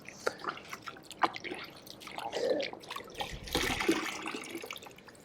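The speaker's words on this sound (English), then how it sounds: "You want to make sure you rinse this out really well." Water drips and splashes as a cloth is sloshed and wrung in a bucket of no-rinse car wash solution, with irregular trickles and a louder swishing burst near the end.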